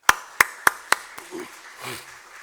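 Four sharp, evenly spaced claps ring out close by in a church during Sunday worship, then fade into a quiet room with faint low murmuring.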